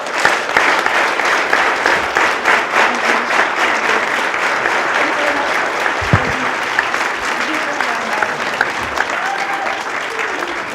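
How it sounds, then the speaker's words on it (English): Sustained applause and a standing ovation from a large keynote conference audience, dense and steady throughout, with crowd noise and occasional voices mixed in. "when I say 4, you can start clapping until I say stop"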